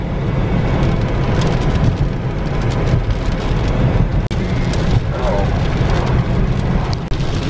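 Loud, dense downpour of heavy rain, a thick continuous roar with low rumbling underneath and no one speaking.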